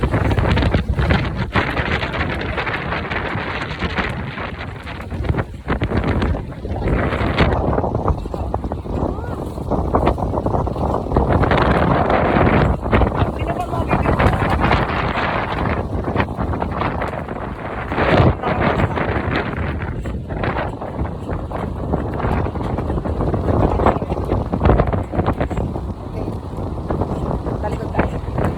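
Strong, steady wind buffets the microphone at a beach while waves wash in beneath it, a loud continuous roar that never lets up.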